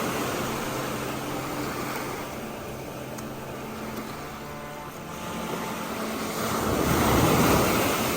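Ocean surf washes steadily onto a beach, a continuous broad rush that swells louder near the end, with wind buffeting the microphone and no voices.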